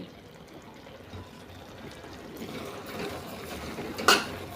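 Half a cup of sugar is poured into cooking carrot halwa, a soft granular rushing pour that builds over a few seconds and ends in a brief louder spill.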